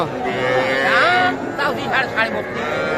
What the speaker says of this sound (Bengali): শাহিওয়াল জাতের বকনা গরু